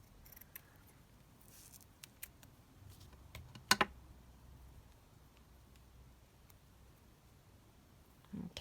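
Scissors cut around a piece of lace for a junk journal, giving a few faint, scattered snips and clicks close by in an otherwise quiet room.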